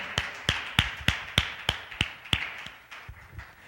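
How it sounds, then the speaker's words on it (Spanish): A congregation at a Spanish-language church service claps in a sparse, fairly regular rhythm, about ten sharp claps, then fades out. "dale un aplauso al Señor"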